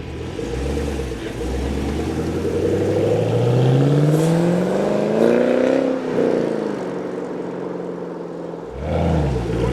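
A Chevrolet Camaro SS with a 6.2-litre V8, manual transmission and active exhaust revs and accelerates, its engine note climbing through rising pitch sweeps, then dropping back to a deep idle rumble before another rev.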